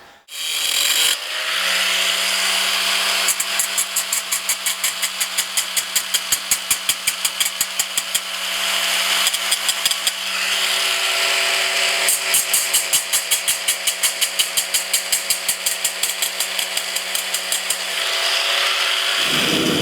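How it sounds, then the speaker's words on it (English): A blacksmith's forge warms up with a steady motor drone beneath it and bursts of rapid mechanical ticking that start and stop, loud and close, with no talking. "if you can hear me okay while the forge is warming up"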